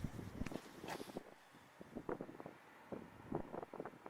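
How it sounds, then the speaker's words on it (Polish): Gusty cold wind buffeting the microphone, rising and falling in uneven rushes with low rumble, no voices. "zimny wiatr"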